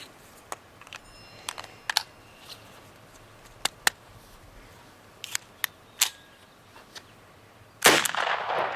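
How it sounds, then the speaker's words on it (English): A Zip22 .22 pistol loaded with a Ruger BX-25 magazine fires one sharp shot near the end, after scattered light mechanical clicks from handling the gun. "Fire it off real quick just so I don't have it sitting around."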